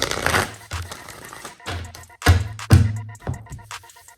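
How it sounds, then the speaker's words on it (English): Tarot cards being shuffled in quick bursts, crisp riffling and flicking with a few louder snaps, close up, with soft pauses between passes. "Let me just do a quick shuffle."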